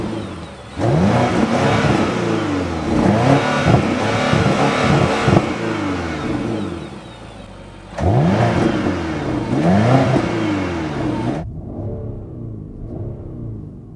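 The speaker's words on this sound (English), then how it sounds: "let's make a small pause and listen to the sound that comes out from these pipes" Alpina XB7 SUV exhaust pipes bellowing as the engine is revved twice to the limiter, loud deep rumbling bursts with a pause between, then dropping back to idle.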